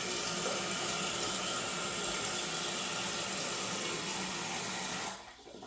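Water rushes loudly and steadily into a toilet tank through a newly installed fill valve, then cuts off abruptly near the end.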